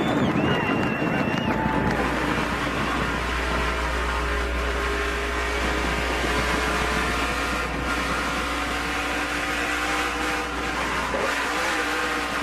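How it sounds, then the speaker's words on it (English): Onboard a race car, the engine roars loudly and continuously as the rear tire spins, with a low steady drone under a layered high-pitched whine and wind buffeting throughout. "You could hear the rear tire spinning."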